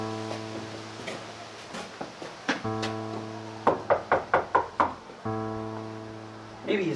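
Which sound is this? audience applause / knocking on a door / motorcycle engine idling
knocking on a door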